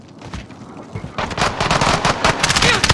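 Rapid automatic gunfire in the video game Call of Duty Warzone, loud, dense bursts that pick up after a quieter start and continue steadily to the end.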